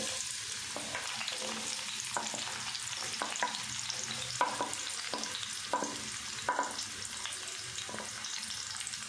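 Onions frying in half a cup of hot oil in a pan on the stove, a steady crackling sizzle with repeated light scraping taps of a spoon stirring, close and even throughout.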